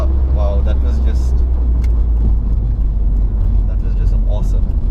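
A Mitsubishi Evo rally car's engine gives a loud, continuous low roar with a dense rumble that holds steady throughout, with brief higher bursts over the top.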